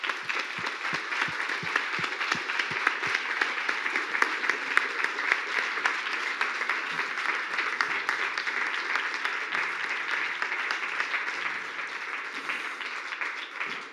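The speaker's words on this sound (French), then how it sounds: "nous t'applaudissons" An audience applauds after a screening of the film 3000 Nuits, giving a steady, dense wash of many hands clapping that carries on alone for the whole stretch.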